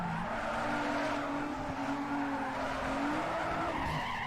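A race car in Need for Speed Underground 2 spins out, its tires skidding and squealing in a long continuous screech over the steady engine roar.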